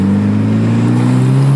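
A Mitsubishi Evo 7 rally car engine fitted with a pod filter drones loudly and close up, holding a steady deep note that climbs slightly in pitch, with no talking over it.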